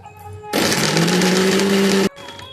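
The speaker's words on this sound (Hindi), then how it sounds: "एकदम से मिर्ची ये मिक्सी ना चलाएं, रुक रुक कर ही चलाएं" A kitchen mixer grinder whirs loudly for about a second and a half, chopping green chillies with water and salt, with a sudden start, a steady high whine and an abrupt stop.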